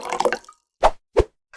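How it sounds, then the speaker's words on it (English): Soda is poured in a stop-motion short, heard as a brief fizzy rush followed by two distinct wet plops and a final splash, close and clean with no talking. "Pour the soda."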